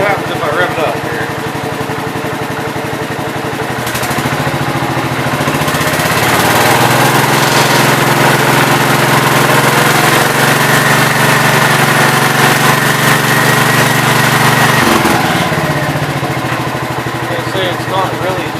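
A 1967 424 engine runs steadily and then revs up, its tone rising and holding higher for several seconds before dropping back, loud and close, with a person talking over it.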